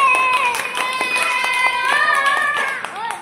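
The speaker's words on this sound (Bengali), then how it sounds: "হাততালি দিয়ে দাও, সবাই হাততালি দিয়ে দাও" A group of primary schoolchildren in a classroom clap their hands together, a dense patter of claps with high voices calling out over it, fairly loud and close.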